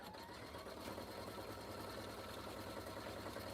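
A home sewing machine runs in one steady, continuous stretch, stitching a second time over a line already sewn on a machine-embroidered wallet, fairly faint and with no voices.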